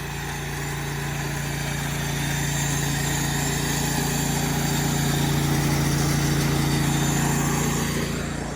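A steady, droning engine runs continuously on a pressure washing trailer rig at a gas station at night, a loud unbroken hum with no talk.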